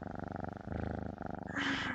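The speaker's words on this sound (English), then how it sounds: "The purring is cute though." Close, steady purring from a cat avatar in a VRChat session, a rhythmic rumbling pulse with no talking over it.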